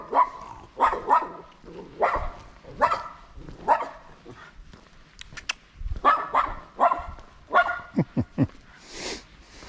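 A dog named Bouncy gives repeated sharp, loud barks close by in an irregular series of bursts, some higher and yippy, with faint whimpers between them.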